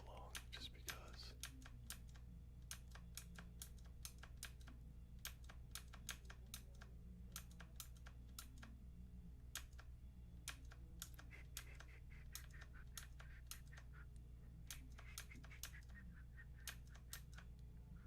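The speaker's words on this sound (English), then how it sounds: "I'm going to try and do some tapping with the keyboard as I go along" Computer keyboard tapped in fast, irregular bursts of crisp clicks across the whole stretch, heard over a steady low hum, with faint voices now and then.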